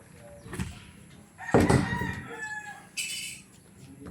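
A rooster crows loudly and close by, with hen-like clucks before and after it; no one speaks.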